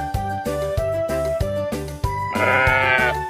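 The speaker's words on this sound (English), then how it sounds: "Sheep." A sheep bleats once, a short wavering bleat near the end, over a steady backdrop of rhythmic music.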